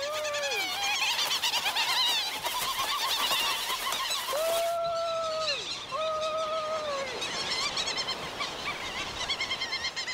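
Many Providence petrels call across a crowded plateau on Lord Howe Island, with repeated rising and falling wailing cries over a dense, continuous chorus of colony chatter.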